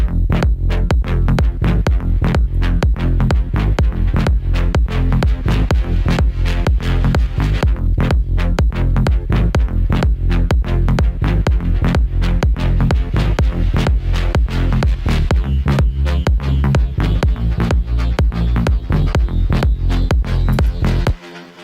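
A dense electronic music track, a remix, with a pulsing beat and a robotic vocoder-style synth voice running continuously, loud and steady until it cuts off.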